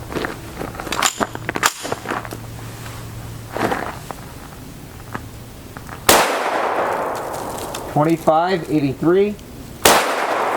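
Gunshots from a PS90 SBR with a 10.3-inch barrel firing 5.7x28mm ammunition, a few sharp loud reports spaced seconds apart, with someone speaking between and over the shots.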